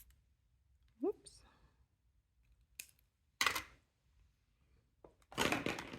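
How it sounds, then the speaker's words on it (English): Scissors snip through paper while cherry-themed paper charms for covered paperclips are cut apart, giving several short, close crisp cuts spread out with quiet gaps between them. "Go ahead and cut those apart."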